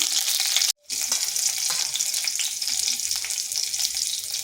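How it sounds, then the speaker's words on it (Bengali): Dried red chilli and green chillies fry in hot oil with a loud, dense, continuous sizzle, close to the pan, cut by one brief silent gap near the start. "একটা শুকনো লঙ্কা আর দিচ্ছি চারটা কাঁচা লঙ্কা"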